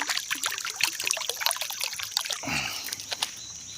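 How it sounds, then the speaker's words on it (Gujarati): Water is poured into plastic bottles outdoors, a close, uneven trickling and splashing with gurgles and light knocks that settles into a smoother stream toward the end. "એક હાથે બોટલો ભરી"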